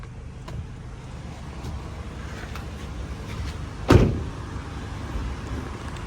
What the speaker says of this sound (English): Let's open up the fuel door and definitely pop the hood.